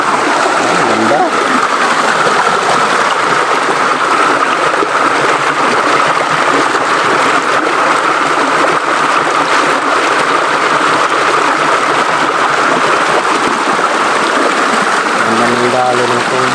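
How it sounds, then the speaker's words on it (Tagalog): Water rushes steadily down a mountain stream, a loud, continuous broadband flow that persists unchanged throughout, with a voice briefly audible near the end. "Ganda ng dalo ng tubig."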